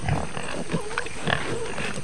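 Pigs grunt in short, low bursts on Mount Banahaw, close by and fairly quiet, with faint human voices in the background.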